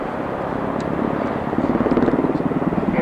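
A military helicopter fitted with infrared suppression flies at the 1990 Farnborough Air Show, a loud, close engine roar whose rotor-blade chop grows into a strong, steady pulsing midway through.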